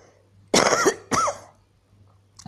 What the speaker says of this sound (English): sorry, I have this cough.